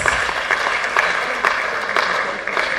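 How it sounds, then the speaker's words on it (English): Applause from an audience at a mental health awareness programme, a dense, loud, even clapping that carries on for the full few seconds with no voices. "help me give Mrs. Nkechi Mebuze a round of applause"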